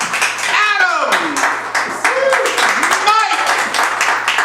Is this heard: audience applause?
yes